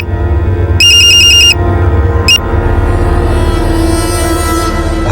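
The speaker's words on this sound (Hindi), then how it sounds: "ए सुशांत, खड़ा बात कर, उठा फोन" A mobile phone ringtone plays in two electronic bursts, a longer ring followed by a short one, loud and close over a background music bed in an Indian crime drama scene.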